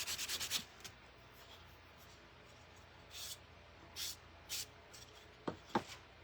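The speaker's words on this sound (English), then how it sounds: "going to sand it out just a little bit more because I really want it to be faded looking" A woodblock is sanded by hand to give it a faded look: soft, quiet rubbing strokes come in short separate passes with pauses between, closely miked in a calm room.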